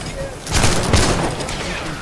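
A dense, loud volley of video game gunfire and mortar fire rattles continuously for about two seconds, thick and booming.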